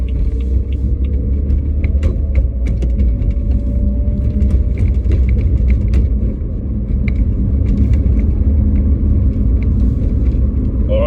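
A race car heading onto a freeway, heard from inside as a loud, constant low road rumble and engine drone with faint intermittent clicks and rattles, no talking.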